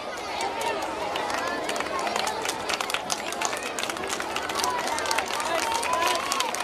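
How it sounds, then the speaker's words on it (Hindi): Audience applause fills a school annual day hall, a steady wash of clapping hands with crowd murmur mixed in, continuous and even throughout. "हाँ ये तालियां थी"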